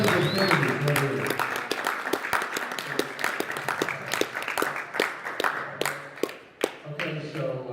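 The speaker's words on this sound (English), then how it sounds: "Well, round of applause, ladies and gentlemen." Audience applause at a talk about cannabis: scattered, uneven clapping from a crowd with distinct sharp claps standing out, mixed with background voices and room noise.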